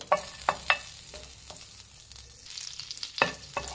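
Two tablespoons of butter melting and sizzling in the same pan used earlier for an egg sandwich, a soft steady fry punctuated by several sharp clinks of a spoon against the pan.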